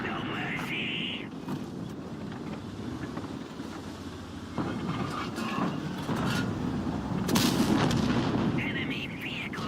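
Tank cannons fire in the World of Tanks video game, with heavy booming shots over a continuous rumbling engine and battle noise. Bursts swell and fade across the stretch.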